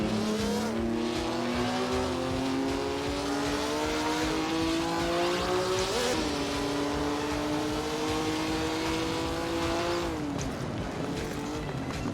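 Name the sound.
1955 Lancia and Mercedes F1 cars racing at Monaco, Assetto Corsa video game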